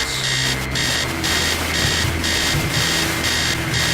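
A text-based game sound effect of an alarm clock blaring upstairs in a house: a loud, continuous electronic ringing that pulses in regular bursts roughly every half second for the whole stretch, with no voices.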